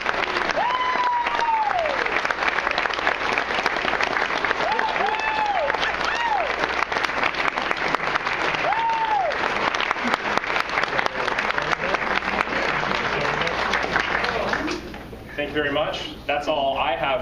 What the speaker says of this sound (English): I want you to join me in applauding them